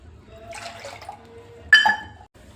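Water is poured into a pot nearby for rice-flour dough in two short bursts, a soft splash followed by a louder, fuller gush.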